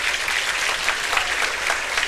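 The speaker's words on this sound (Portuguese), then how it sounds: "Quero pedir uma salva de palmas" Audience applause at a Brazilian ENEM exam-prep lecture, a brief, even burst of many hands clapping, steady and fairly loud throughout.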